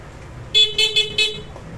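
A Bosch Europa car horn, newly rewired and mounted on a stainless bracket, honks in four short bright blasts in quick succession over faint background noise.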